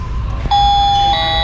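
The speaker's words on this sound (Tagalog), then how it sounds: "mag-doorbell ka." A toy doorbell with lights and sound sets off a bright, sustained electronic tone and chime after a brief click, ringing loudly up close in a market setting.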